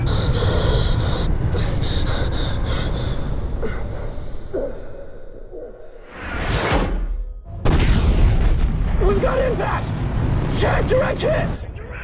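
Bomb blasts in a Top Gun: Maverick jet attack scene boom deep and loud, with a rushing whoosh and heavy impact midway, amid roaring aircraft noise and tense radio voices.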